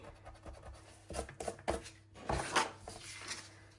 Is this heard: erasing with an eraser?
yes